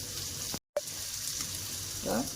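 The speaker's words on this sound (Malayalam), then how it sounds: "കൈയൊന്ന് കഴുകിയിട്ട് വരട്ടെ." A kitchen tap runs while hands are washed, a steady soft hiss of flowing water with a brief cutout partway through, fairly faint.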